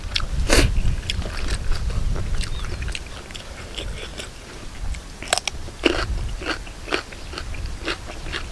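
Close, crisp crunching and biting while eating spicy Thai squid salad with bitter melon, irregular crackly bites repeating over several seconds with chewing in between, no talking.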